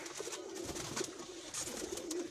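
A Faisalabad pigeon coos on a rooftop, faint, repeated low cooing over a soft background hiss.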